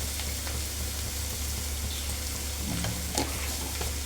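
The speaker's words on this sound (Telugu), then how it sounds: "కూర అనేది ఎక్కడ పచ్చివాసన లేకుండా పొనుగంటాకు అనేది వేయించుకోవాలి" Ponaganti leaves being fried and stirred in a pan for a Telugu roti pachadi, giving a steady low sizzle with occasional soft scraping clinks, moderately close and without any talking.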